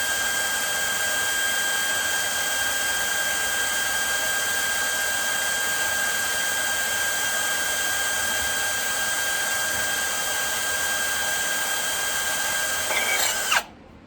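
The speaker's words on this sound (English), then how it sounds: "This is a Milwaukee drill bit." A drill boring into a TH350 transmission sprag with a 1/16 inch Milwaukee bit, a loud, steady high whine that holds level throughout before cutting off abruptly near the end.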